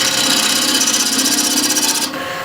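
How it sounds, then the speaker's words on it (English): A negative rake scraper cuts across the center of a small wood blank spinning on a lathe, giving a steady, loud, close rasping scrape that eases slightly near the end. "I'm scraping at the center."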